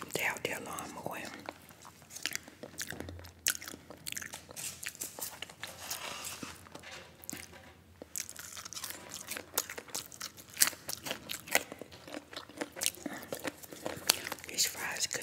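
McDonald's fries are crunched and chewed up close in an ASMR eating session, with a steady run of crisp bites and soft mouth sounds under quiet whispered talk.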